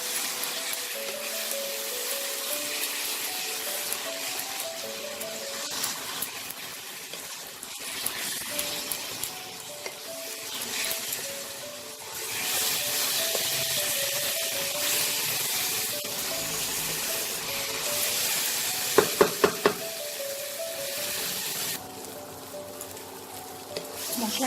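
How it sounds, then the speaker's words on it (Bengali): Masala with Kashmiri chili powder sizzling and frying in a pan for a methi chicken dish, a continuous hiss with scraping and clinking of a spoon stirring, plus a few sharp clacks near the end. "কাশ্মীরি লঙ্কা গুঁড়ো দিয়ে এই মশলাটাকে খুব ভালো করে কষিয়ে নেব।"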